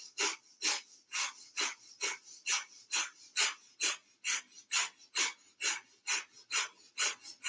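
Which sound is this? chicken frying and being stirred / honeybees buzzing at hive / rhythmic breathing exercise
rhythmic breathing exercise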